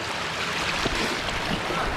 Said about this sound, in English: even though we're walking up basically a waterfall, stream, whatever you want to call it